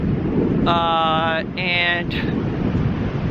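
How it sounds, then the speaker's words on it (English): Strong gusts of wind buffet an outdoor plein air oil painting setup on the coast at Pacific Grove, California, a steady rumbling roar throughout with brief speech partly under it. "the wind is picking up quite a bit now"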